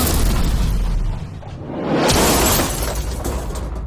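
A loud roaring explosion swells up after a stretch of heavy rumbling, then settles into a sustained noisy roar, with no voices.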